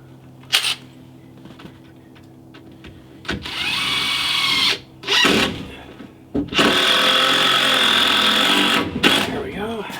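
A power drill drives screws into wooden shed shelves in several whirring bursts of a few seconds each, near and fairly loud, with short quiet gaps and brief clicks between.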